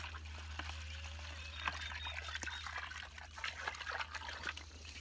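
Water poured into a bucket of fermenting chicken feed grain, a faint steady trickle with small splashes and drips, close but quiet over a low background hum.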